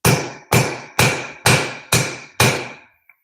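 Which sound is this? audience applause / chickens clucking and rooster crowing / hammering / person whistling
hammering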